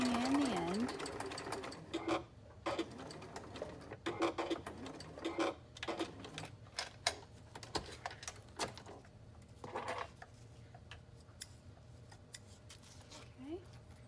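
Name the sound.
sewing machine stitching a seam with backstitch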